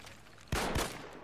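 Gunfire in the combat game ARMA 3 during an infantry assault in Normandy: two sharp, loud shots close together after a quiet lead-in, followed by a lingering reverberant tail.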